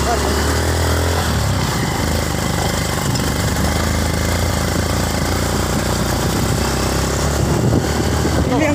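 A Honda Megapro motorcycle engine rumbles steadily nearby at night on a rough forest road, a continuous throaty drone that holds throughout with slight swells, no clear voices over it.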